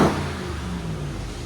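A 2023 RAM TRX with a supercharged 6.2L HEMI V8 on its factory exhaust gives a loud, close rev that peaks at once and then settles into a deep, steady engine rumble.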